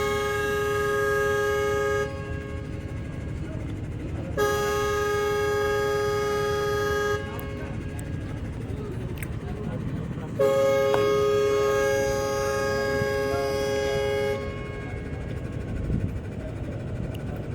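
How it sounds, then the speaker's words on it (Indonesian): A deep ferry horn sounds three long blasts with short gaps, signalling imminent departure, loud over a steady low engine rumble and background noise. "kapalnya udah klakson 3 kali, artinya kapal segera diberangkatkan"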